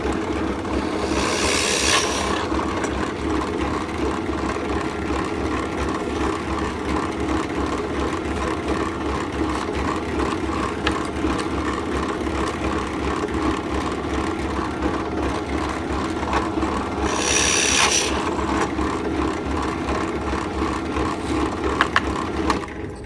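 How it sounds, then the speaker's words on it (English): A steady mechanical whir of a drill press runs throughout, with two brief bursts of harsher, high-pitched grinding as the bit cuts holes into wooden side rails. "Turn on your press and let's drill."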